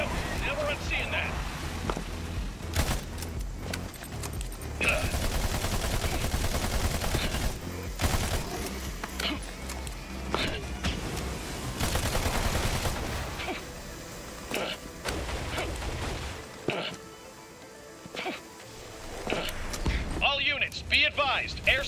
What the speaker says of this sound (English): Airstrikes are badass.